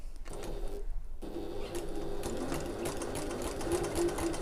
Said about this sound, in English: I'm just sewing along the short end there